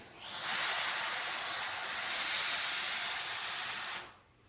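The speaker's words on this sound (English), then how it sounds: "Spray the steam on the sleeve." A steam iron sprays a steady, loud hiss of steam onto a collared shirt sleeve for about four seconds, then cuts off abruptly.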